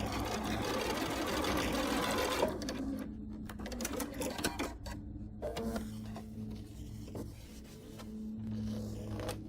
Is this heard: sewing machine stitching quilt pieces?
yes